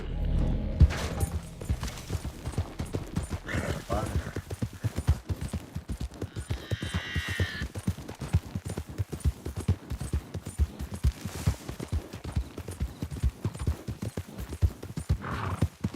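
Horse hooves in Red Dead Redemption 2 clip-clop continuously at a brisk trot, close by, with a brief whinny partway through.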